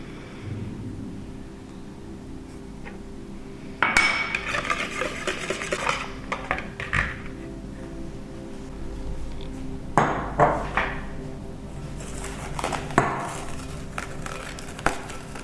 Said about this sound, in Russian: Ввожу его сюда в яично-сахарную смесь. Я все взбиваю обычным венчиком.